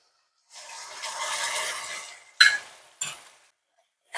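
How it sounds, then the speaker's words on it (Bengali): Spice paste mixed with yogurt being stirred into fried onions in a pan for Bengali chicken curry: a sustained sizzling hiss for about two seconds, followed by two short scraping clatters of a utensil against the pan, with no voices. "এবার মশলাটাকে একটু ভালোভাবে মিশিয়ে নিতে হবে এবং ভালোভাবে একটু ভাজতে হবে"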